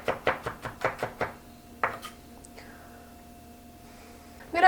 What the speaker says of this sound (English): I'm just gonna mince this garlic.